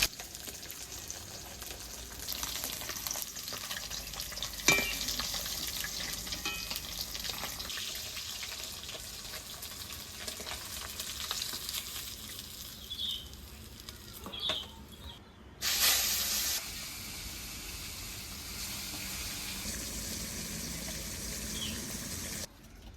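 Live snakehead fish frying in hot oil in a home kitchen, a continuous hissing sizzle at low level with a few brief spatters and a short break partway through.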